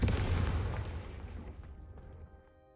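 A Confringo blasting spell explodes in Hogwarts Legacy: one loud, deep boom that rumbles and fades over a couple of seconds, with no voices.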